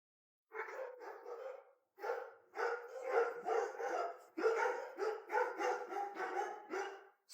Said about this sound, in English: sorry if my dogs are barking